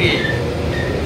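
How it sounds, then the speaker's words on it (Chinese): Steady interior rumble of a high-speed rail train in motion, a low continuous drone with faint high whining tones, brief and even in level. "我正在高铁上"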